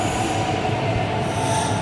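A train rolls steadily past close by near a border station, with continuous rumbling wheels and a sustained squeal of wheels on rail, loud and alone with no talk.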